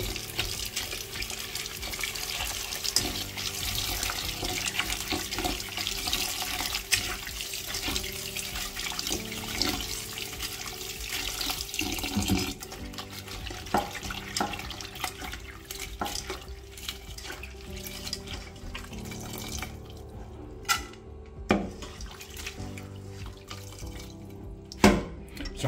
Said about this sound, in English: They're going to pour this water and put more water to wash.